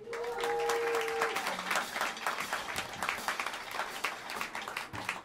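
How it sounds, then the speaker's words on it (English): Sustained applause from an audience filling a New York jazz club, dense clapping with a few cheers, steady and fairly loud throughout. "Please give a big round of applause to Arcora Sandoval on the piano."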